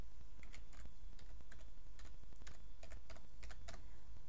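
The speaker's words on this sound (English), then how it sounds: "Once you've typed the key in," Typing a wireless network security key on a computer keyboard: a steady run of crisp, close key clicks in uneven bursts over a low constant hum, with no talking.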